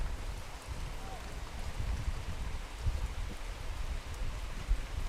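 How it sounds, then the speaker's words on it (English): Rain falls steadily at an outdoor youth soccer match, a broadband hiss with low rumble and faint patter throughout, no clear voices. "Rain coming through a little bit"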